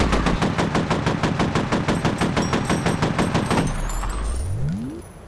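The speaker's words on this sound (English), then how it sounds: "I'm not trying to flank you, I'm trying to shoot you." Sustained fully automatic gunfire in the video game F.E.A.R., a loud, steady rapid rhythm of shots for nearly four seconds before it stops and fades.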